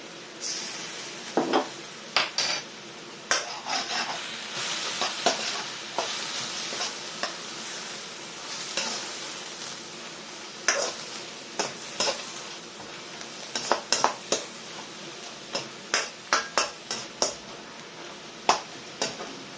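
Ginger and garlic hit a hot wok for Shanghai noodles, sizzling steadily while a metal utensil scrapes and clanks against the pan in quick, irregular strokes, close and continuous with no talking.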